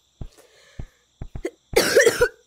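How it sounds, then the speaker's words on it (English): Several short, sharp coughs spaced apart, followed by a longer, harsher burst of coughing, close and loud. "sorry if I cough a lot"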